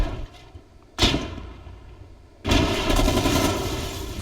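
A sharp burst of video game gunfire, then after a pause a sustained roar of rapid shooting at a tank, loud and close.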